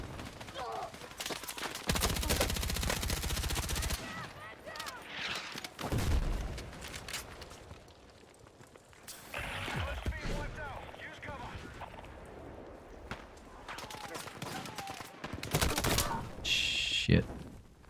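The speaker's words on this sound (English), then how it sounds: "there's some snipers up top over there just picking us off over here" Rapid gunfire from an online shooter game, with repeated sharp bursts and cracks from snipers firing from above, loud and close, mixed with game noise and a player talking over it.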